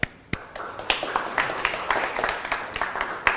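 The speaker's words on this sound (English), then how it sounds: "Applause." An audience applauds at the close of a talk on entrepreneurship, with a burst of claps that quickly settles into steady, moderately loud clapping from many hands in a room.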